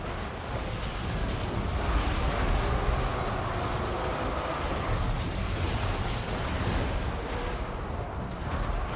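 Flame cannons firing in a Total War: Warhammer 2 battle, a dense rumbling roar of blasts and distant booms that stays steady and loud throughout, with no voices.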